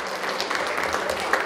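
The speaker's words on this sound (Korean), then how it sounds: "그럼 여기서 박수 한번 부탁드립니다." Audience applause at a Rotary club founding anniversary and charter presentation ceremony in Cheongju, a short steady patter of many hands with no talk over it.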